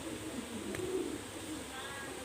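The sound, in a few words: Pakistani high-flyer pigeon cooing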